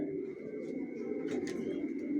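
Pigeons coo softly and continuously inside a loft of racing pigeons, with low, rolling calls over a steady background hum.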